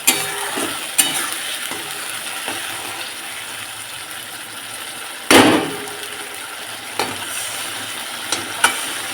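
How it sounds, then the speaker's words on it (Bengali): Spice masala for a mutton curry is stirred and fried in a pan, giving a continuous loud sizzle broken by sharp scraping knocks of a spatula, one heavier scrape midway, with no voices. "মশলাটা ভালো করে যত কষা হবে মাটনটা টেস্টও তত ভালো হবে"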